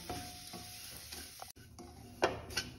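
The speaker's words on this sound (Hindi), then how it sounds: "तो हमारा घी देखिए पिघल गया है, अब इसको हम इसी में डाल के रोस्ट कर लेंगे" Semolina stirred and roasted in melted ghee in a pan, giving a soft continuous sizzle with scraping strokes of a spoon, a few sharper clinks of utensil on metal near the end.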